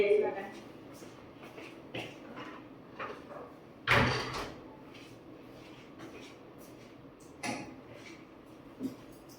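A door creaks and closes with a sharp knock partway through, among quieter household clatter and a later bump, while people talk intermittently.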